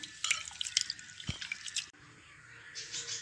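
Kodo millet being washed by hand in a bowl of water in a home kitchen, close wet splashes, drips and squishing swirls in quick irregular bursts, then a quieter trickle of water toward the end.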